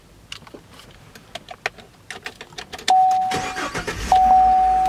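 A Chevy Silverado pickup truck cranks and fires up after a series of clicks and short electronic beeps, the engine catching with a loud surge and settling into a close, steady run.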